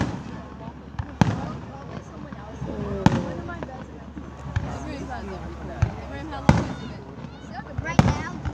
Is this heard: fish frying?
no